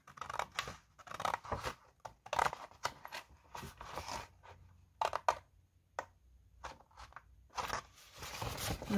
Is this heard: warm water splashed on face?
no